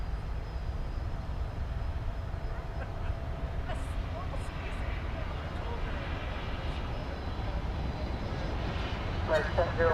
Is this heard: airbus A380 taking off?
yes